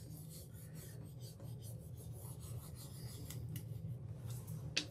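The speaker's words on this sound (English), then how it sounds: "you're going to burnish it again until it all sticks" A decorative wooden stocking being burnished with material rubbed onto it, heard as a steady close rasping rub that carries on without a break for several seconds, with no talk over it.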